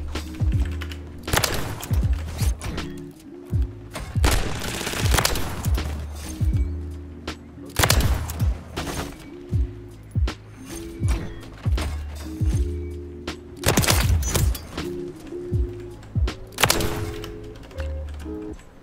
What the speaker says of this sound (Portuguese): hoje eu vou testar tanto a Renette SMG, quanto o revólver sniper